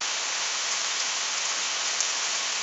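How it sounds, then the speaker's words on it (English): AI-generated rain sound effect, a dense, even hiss of falling rain with a few slightly sharper drops standing out, continuous and fairly loud throughout. "you will hear what sounds like rain"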